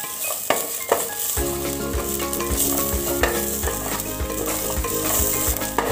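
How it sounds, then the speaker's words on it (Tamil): Lightly crushed garlic is stir-fried in a pan for garlic powder, a constant sizzle broken by rhythmic scraping strokes of the spatula against the pan, close and without talk. "பூண்டு இப்போ நல்லா வறுபட்டுருச்சு"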